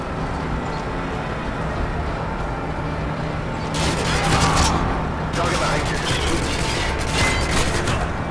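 Video game gunfire from a Call of Duty: Modern Warfare 2 campaign mission, with a dense burst of rapid shots breaking out midway over a steady background rumble, then another sustained volley toward the end.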